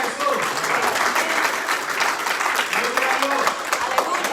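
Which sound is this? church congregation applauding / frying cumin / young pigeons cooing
church congregation applauding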